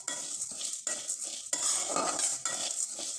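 Lentils dry-roasting in a wok are stirred with a utensil, making rhythmic scraping and rattling sweeps in several bursts over a faint background, close and moderately loud.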